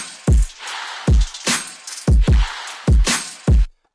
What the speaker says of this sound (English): Then I have this top loop with chanting